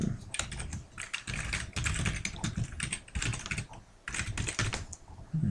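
Rapid, continuous keystrokes on a computer keyboard while setting up a Windows 8 shutdown shortcut, close and fairly loud, with only brief pauses between bursts of typing.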